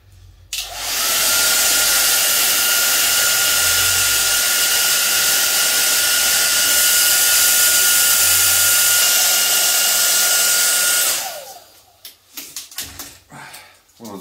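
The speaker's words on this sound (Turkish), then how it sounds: "Saç kurutmasının sıcağıyla." A hair dryer blows hot air to heat-seal a plastic bag, a loud steady whir running unbroken for about ten seconds before cutting off, leaving faint handling noises at the end.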